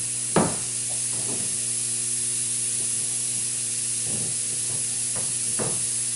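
Air hisses steadily into an inflating Newtowne walk-in chamber, a constant loud blowing noise with a few soft knocks and rustles over it and no talking.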